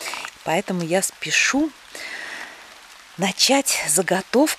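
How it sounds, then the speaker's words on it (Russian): Light autumn rain falls as a soft, steady patter, mostly buried under someone speaking, briefly audible alone in a pause between her sentences. "И сейчас начался дождик."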